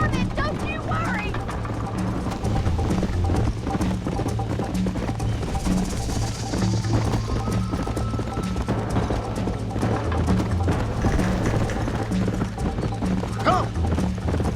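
A horse gallops in the Red Dead Redemption video game, with fast rhythmic hoofbeats that stay steady and prominent under a game soundtrack and occasional voices.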